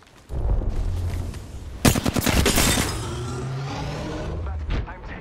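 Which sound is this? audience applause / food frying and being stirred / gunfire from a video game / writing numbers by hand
gunfire from a video game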